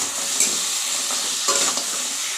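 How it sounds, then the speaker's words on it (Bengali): Crab stir-frying in a pan with onion, chilli and tomato paste, giving a steady loud sizzle with a few scraping stirs of a utensil, close up and with no talk. "এবার এর মধ্যে আমি কাঁকড়াটা দিয়ে আর একটু কষে নেব।"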